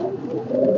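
Pigeons cooing at a Sunday pigeon market, a soft, continuous low murmur of several birds close by, steady throughout with no talk.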